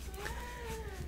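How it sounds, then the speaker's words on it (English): A house cat gives a single drawn-out meow with a slight wavering pitch, close and moderately loud over low room hum. "this fucking cat. She's so vocal"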